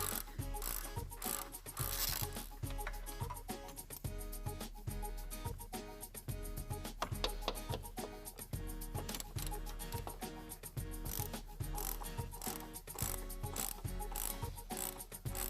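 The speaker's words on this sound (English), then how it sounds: "Remove the 3 mounting bolts that secure the air strut's upper mount." A hand ratchet clicks rapidly and steadily, close up, while the upper mount bolts of an air strut on a Porsche Cayenne, VW Touareg or Audi Q7 are removed, with no voices.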